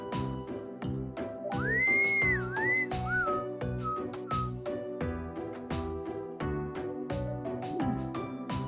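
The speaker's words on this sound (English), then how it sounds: "That innocent whistling isn't fooling anyone." A character in the video game Trails of Cold Steel whistles a light, innocent tune: a rising note, a wavering hold and a few short chirps over bouncy, plucked game music.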